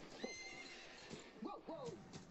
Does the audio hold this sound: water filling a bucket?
no